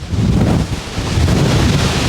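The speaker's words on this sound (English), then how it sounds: "There's that wind." Loud, steady storm wind roars and buffets a microphone outdoors, a dense continuous rush with gusts rising and falling, no voices over it.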